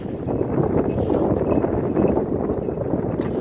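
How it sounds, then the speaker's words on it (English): Strong gusting wind, about 25 to 30 miles per hour, buffets the microphone outdoors under ominous clouds as a steady loud roar with slight swells. "So I want to say the wind's gusting about 25 to 30 miles per hour."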